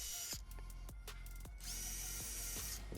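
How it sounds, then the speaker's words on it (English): A power drill with a Diablo bit grinds through brick mortar, loud and close, in short bursts with brief pauses between them. "you're going to see exactly how easy and smooth it is for these Diablo bits to drill right through brick"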